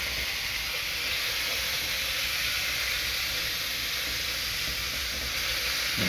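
Food browning in a hot pan on the stove, a loud, steady hiss and crackle of sizzling oil that continues unbroken throughout, close and constant with no talking.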